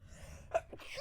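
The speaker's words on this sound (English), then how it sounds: "I think you see the sneeze forming on my face." A single short sneeze, a quick sharp burst preceded by a small intake of breath, close and fairly quiet, with faint breathy sounds after it.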